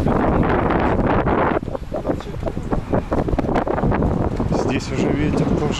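Strong gusting wind roars against the microphone throughout, with someone talking over it.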